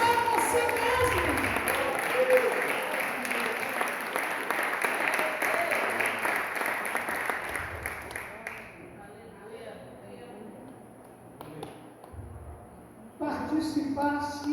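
A church congregation applauds during a Feast of Tabernacles service, with loud group clapping for about eight seconds that fades into quieter scattered sounds, followed by a brief renewed burst near the end.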